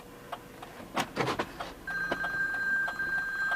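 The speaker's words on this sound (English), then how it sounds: "the phone can just keep right on ringing" A phone rings inside a vehicle with its flashers on. A few clicks and clatters come first, then a steady electronic ringing tone holds loudly to the end.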